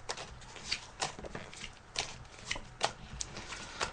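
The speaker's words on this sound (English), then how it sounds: "So I'm just shuffling the cards." Tarot cards are shuffled by hand in quick riffling bursts, a soft papery flutter repeating roughly every half second, close and quiet with no talk.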